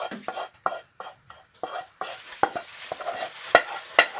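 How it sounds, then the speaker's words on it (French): Sauce poured and stirred into a cooking pot of lentils, with rhythmic scraping and stirring strokes and light sizzling, close and alone with no talk over it. "dans notre casserole qui ont cuit les lentilles, on met notre sauce"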